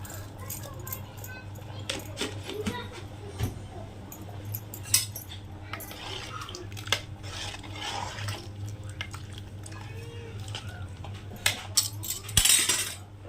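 A spoon stirs salt into homemade biryani in a pot, scraping and clinking in irregular strokes over a steady stove hum, with someone speaking throughout.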